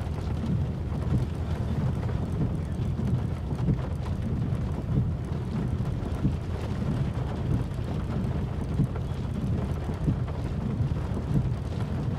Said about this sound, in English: the wind is starting to pick up a little